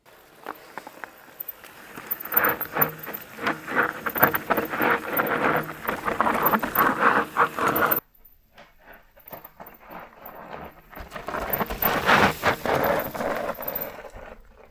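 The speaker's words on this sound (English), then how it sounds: "you can hear the bike skidding the whole way, and that's because there's a lot of the rear brake and it's just all unweighted" A mountain bike skids down loose, dusty ground with heavy rear braking, a continuous gritty scraping and crunching of tyre on dirt, broken by a brief quiet gap before another rough skidding stretch, with wind noise over the mic.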